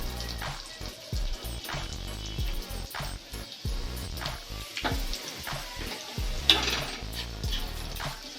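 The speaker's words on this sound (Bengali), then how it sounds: "পেঁয়াজটা ভাজা হয়ে গেছে লাল লাল করে।" Onions fry in a pan for a fish-roe taruli, a steady close sizzle broken by repeated scrapes and stirs of a spoon against the pan.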